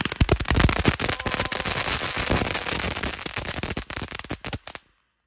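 A firework cake shooting colourful balls with rapid crackling bursts, a dense string of loud, sharp pops fired in quick succession for about four and a half seconds before stopping abruptly, nearby and with no talking.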